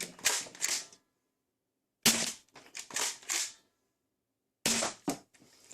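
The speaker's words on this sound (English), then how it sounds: "let's put some of the included dart through it" A Game Face Trion toy blaster fires foam darts in three short bursts of sharp, rapid clacking shots, close by and separated by silent pauses.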